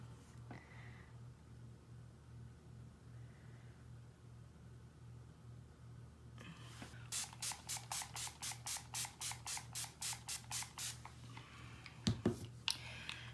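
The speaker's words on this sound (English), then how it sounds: "I usually go in with this Clinique Moisture Surge Face Spray" A quiet room hum, then a rapid run of short, even mist sprays from a Clinique Moisture Surge face spray pump bottle, close by, followed by a couple of louder spritzes.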